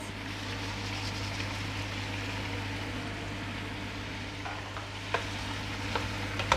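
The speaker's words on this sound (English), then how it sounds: "Stir in the spices and the bay leaves." Spices and bay leaves are stirred into adobo frying in a pan, giving a continuous close sizzle under a steady hum, with a few sharp clinks of the utensil near the end.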